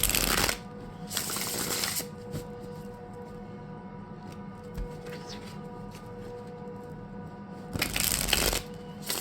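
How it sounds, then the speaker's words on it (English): Tarot cards being shuffled by hand in two brief crisp riffling bursts near the start and end, close up, with quiet room tone between. "I'm just going to shuffle this one."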